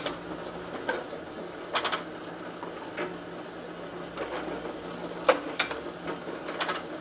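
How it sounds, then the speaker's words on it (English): Advent 300 pressure sensitive labeler with OPA encapsulator applying labels, giving sparse mechanical clicks and clacks spaced a second or so apart over a low steady machine hum, with no talking. "we'll just go ahead and label them so you can get an idea of the speed"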